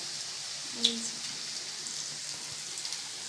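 Pasta cooking in a pan at home, a steady faint sizzle like light rain running throughout, with a brief clink and a person's voice in the background.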